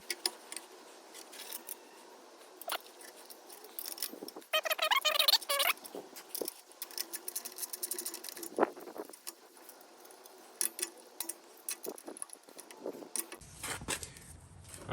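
Metal silencer insert scraping and clicking as it slides into the tight-fitting tip of an aftermarket exhaust on a Nissan 350Z, with scattered scrapes, taps and metallic squeaks heard up close, including a rougher grinding burst midway.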